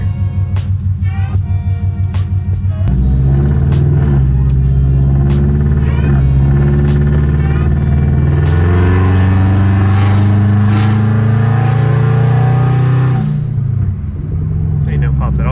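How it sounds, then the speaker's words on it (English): A Scion FR-S / Subaru BRZ / Toyota 86 engine rises from a steady idle into several loud, close throttle blips and sustained revs, then drops back toward idle, with someone speaking over it. "I'm gonna give it a little more throttle right here."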